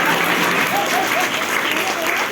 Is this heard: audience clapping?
yes